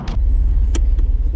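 A McLaren 570S sits at a track day, its engine giving a steady low rumble up close with a couple of brief higher bursts over the top.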